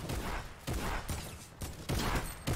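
Gunfire in the video game Fatal Fields crackles in dense, loud volleys, several bursts of rapid shots in a row with barely any pause between them.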